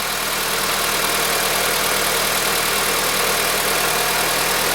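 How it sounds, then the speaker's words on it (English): A 2001-2005 seventh-generation Honda Civic engine idles steadily with a constant low hum and hiss, no voices, holding an even level throughout. "I've started the engine and I'm going to check the voltage again."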